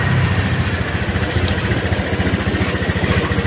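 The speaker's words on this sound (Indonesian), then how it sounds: "Respon mesin ketika kita gas spontan, dia tidak ngempos sama sekali ya." Honda Scoopy fuel-injected scooter engine running close by, a steady loud motor hum with a low pulsing throb that holds without letting up.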